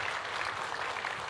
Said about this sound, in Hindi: तो एक बार रेख्ता के लिए ज़ोरदार तालियां।